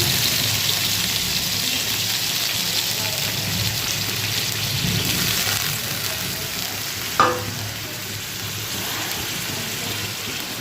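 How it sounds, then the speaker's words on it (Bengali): Steady rain patters and hisses outdoors with a distant rumble of thunder, and one sharp, brief crack stands out partway through; no one speaks. "কেমন মেঘ ডাকছে শুনতে পাচ্ছ বন্ধুরা আওয়াজ সেই শুরু হয়েছে"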